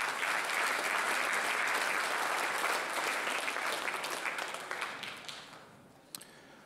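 Audience applause at a high school scholastic awards ceremony: a loud, dense wash of many hands clapping that slowly thins and fades out, leaving a few scattered claps near the end.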